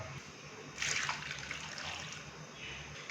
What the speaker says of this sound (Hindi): और 1 गिलास हम इसके अंदर डालेंगे पानी का